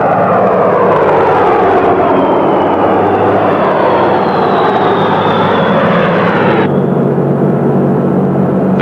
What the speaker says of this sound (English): A fleet of vintage B-17 bombers was converted to drop insecticide